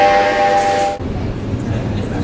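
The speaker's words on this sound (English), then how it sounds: "The train for Hong Kong is approaching." Train to Hong Kong approaching, a sustained tonal horn-like whistle that cuts off abruptly, followed by a broad low rumble of rolling rail noise.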